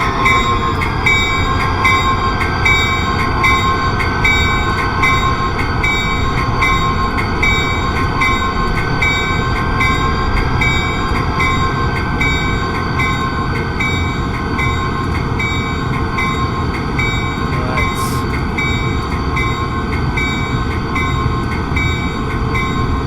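A big train in the Train Simulator video game's Salt Lake City route rolls steadily along, a loud, continuous rumbling drone with steady mechanical whine and a faint click near the end, with no talking.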